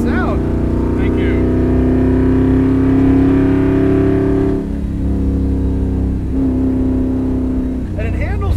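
A 1967 Ford Fairlane's V8 engine accelerates from inside the car, its tone climbing steadily through a gear, briefly dipping at shifts, loud and close with a passenger speaking at moments.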